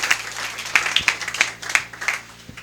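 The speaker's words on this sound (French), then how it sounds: "Can you clap for our sister?" Scattered clapping from a church congregation for a sister during a sermon, a handful of separate claps spaced unevenly over a few seconds, with faint background hum.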